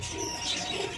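Pigeons coo softly inside a bird house, a brief low murmuring call with faint chirps behind it, quiet and close.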